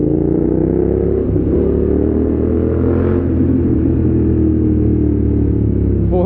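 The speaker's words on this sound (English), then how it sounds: "For the BMW or BMW F900R, it's quite insane and it's quite loud." A BMW F900R motorcycle with a twin-cylinder engine of about 890-plus cc, fitted with an aftermarket exhaust, runs loud and close, a steady deep growl that swells slightly midway.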